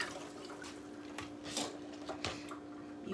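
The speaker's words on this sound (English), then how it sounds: "Let me rinse these off real quick." Tap water running over green onions being rinsed, a faint steady splash with irregular louder gushes and drips as the stalks move under the stream.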